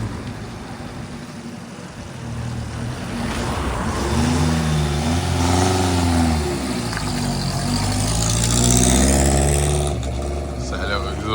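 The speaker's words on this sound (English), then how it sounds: "Got the little Morris coming out." A small classic Morris car engine idles and revs as it pulls out slowly at a classic car and bike breakfast meet, its rising and falling hum close by with crowd chatter in the background.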